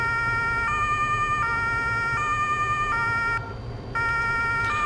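Emergency vehicle siren from a Farming Simulator 22 emergency pack mod, a loud electronic wail cycling in repeated high tones with a brief switch of pattern near the end, over a low steady engine hum.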